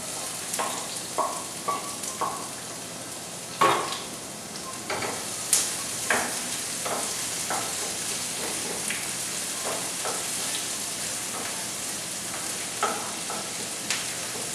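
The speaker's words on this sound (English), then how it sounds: "We use a little bit of the oil where we fry the chiles, and we're going to soften the onions a little bit and the garlic." Onions and garlic softening in chile-infused frying oil for Mexican tortilla soup give a steady low sizzle, broken by occasional stirring scrapes and small pops, close and moderately loud with no talk.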